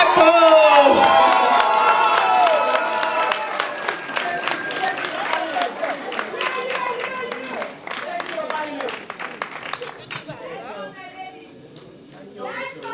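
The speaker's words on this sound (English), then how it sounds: "Una clap, una clap, una clap" Crowd applause and cheering at a Sierra Leone journalists' awards ceremony as the winner is announced, loud at first with whoops and music-like tones, then fading into scattered clapping under chatter and voices.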